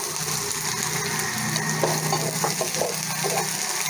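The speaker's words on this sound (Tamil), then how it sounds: "ஸோ ஆனியன் சேர்த்து நல்லா வதக்கிடுங்க" Onions sautéing in a pan with green chilli and garlic for groundnut chutney, giving a steady close sizzle with stirring scrapes throughout.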